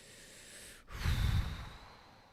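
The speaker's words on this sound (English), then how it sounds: "Why am I breathing like that? Why am I breathing out?" A single heavy exhale, a loud rushing breath that swells and fades over about a second, close to the microphone with a quieter breathy hiss around it and no talk.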